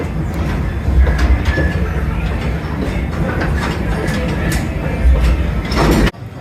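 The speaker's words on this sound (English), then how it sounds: "that was a great little train ride" Amusement park train ride at Kings Island, with a continuous rumbling roll of wheels on track and scattered clicks and clacks, steady and fairly loud, ending in an abrupt stop.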